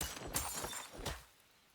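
Crystal or glass block shattering in the Hytale video game, a bright crash with a few quick follow-up breaks trailing off within about a second.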